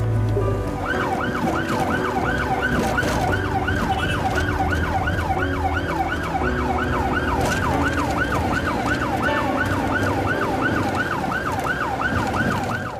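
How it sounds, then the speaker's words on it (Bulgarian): An ambulance siren wails in a rapid repeating sweep, loud and close, over a rumbling road and engine bed with no talking. "Линейката пристига за по-малко от 10 минути"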